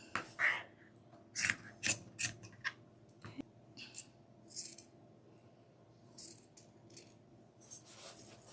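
Scissors snip out a snowman piece for a deco mesh wreath, making a series of crisp close cuts in uneven bursts with soft rustling of material between them, with no talking.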